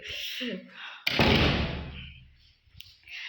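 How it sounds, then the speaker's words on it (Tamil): A house door closes with one solid thud partway through, heard close, with talk before and after it. "கதவு சாத்தி விட்டுக்கலாம்."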